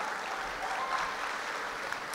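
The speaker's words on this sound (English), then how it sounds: "A round of applause, ladies and gentlemen" An audience at the CoSACSA Ball Games 2024 claps to welcome a singer, a steady, moderately loud wash of applause held for a couple of seconds.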